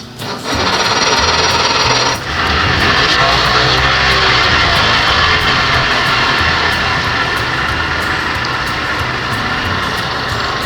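An old outboard boat motor fires up with a brief sputter, then settles into a loud, steady, buzzing run close by, the engine note holding constant with no talk over it.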